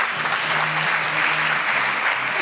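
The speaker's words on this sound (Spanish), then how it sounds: "Nos aplaude como si fuéramos importantes" An audience claps for performers arriving at a small event in Segovia, a brief, continuous burst of close, dense applause with a low hum of voices beneath it.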